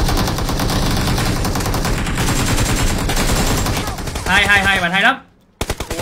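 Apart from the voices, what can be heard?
gunfire in a video game shooter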